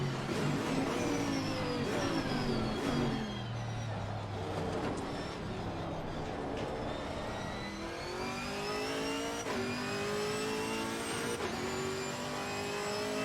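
Chevrolet Camaro GT4.R race car engine at Monza in Assetto Corsa Competizione, loud and steady, with repeated rising rev sweeps through the gears and brief dips on shifts throughout.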